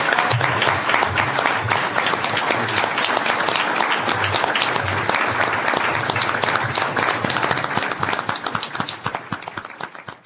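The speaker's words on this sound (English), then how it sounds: "Can we have a round of applause for our candidates?" A crowd at a chamber of commerce candidate forum applauds the candidates, loud and crisp individual claps packed into a lively burst that thins and fades toward the end.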